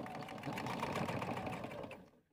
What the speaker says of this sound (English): Let's go sew this bottom casing strip.